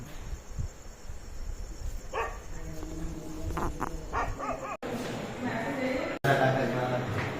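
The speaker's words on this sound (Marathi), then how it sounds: "इकडं फक्त एक फार लांब कुठंतरी एक कुत्र्याचा आवाज यायला" A dog barks far off in short, faint bursts, heard from a gallery or veranda behind low background noise and nearby voices.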